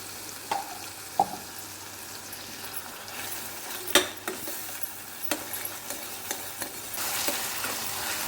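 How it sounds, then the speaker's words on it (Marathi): Ginger, garlic and coriander paste frying in a pan, with a soft, steady sizzle broken by intermittent spoon scrapes and light clinks against the pan while it is stirred, with no talking. "पेस्ट फ्राय करून घ्यायची"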